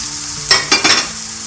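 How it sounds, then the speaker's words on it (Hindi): Ginger-garlic paste fries with onions in a pan, giving a steady close sizzle broken by a few short scraping stirs in the middle of the clip. "अब इसको भी हम 2 से 3 मिनट फ्राई करेंगे।"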